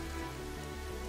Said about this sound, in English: this rain gives me a really bad feeling.